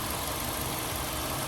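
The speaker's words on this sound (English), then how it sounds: "Okay, guys, look at the engine." A 2021 Chevy Spark LT with about 50,000 miles idles under an open hood, a steady, close, dense engine rumble with constant vibration and no talk.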